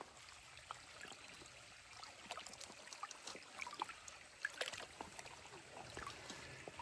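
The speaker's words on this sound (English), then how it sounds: "you open the bag, and you have a large opening then that you can dunk into the water source to collect your water" An outdoor water source trickles and sloshes softly as a bag is dunked in to fill, faint close splashes and dribbles building slightly over several seconds.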